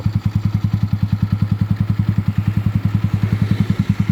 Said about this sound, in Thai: ไม่กล้าเบิ้ลเยอะนะครับ เดี๋ยวมันจะพุ่งครับ เพราะมันเป็นเกียร์ออโต้